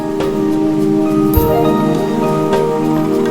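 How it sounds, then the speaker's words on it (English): Steady rain patters on a surface, dense and close, with a few louder drops standing out. "Rain."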